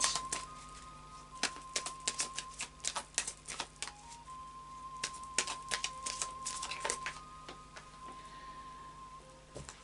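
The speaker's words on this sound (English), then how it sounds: "But I'll do a final shuffle now for you of the animal spirit." Rapid, crisp riffling bursts of cards being shuffled, repeated in quick clusters over a faint steady hum, with no voices.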